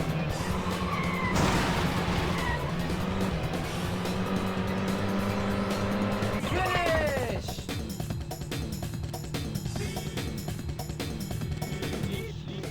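A rally car races an asphalt mountain track in Sega Rally Championship, its engine droning steadily and rising in pitch through gear changes, with tyre noise and a brief crash-like burst, loud and continuous throughout.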